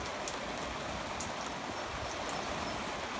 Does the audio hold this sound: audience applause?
no